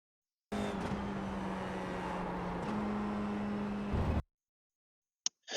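An FIA F4 race car at Suzuka in a racing game, its engine droning steadily before the note drops as it slows for a braking zone; the sound cuts off abruptly, followed by a brief click.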